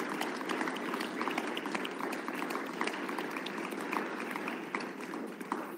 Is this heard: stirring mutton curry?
no